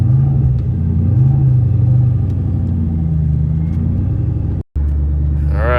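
A 2003 SVT Cobra reverses down a driveway with a loud, steady low engine rumble at idle. It stops sharply for a moment near the end, then picks back up.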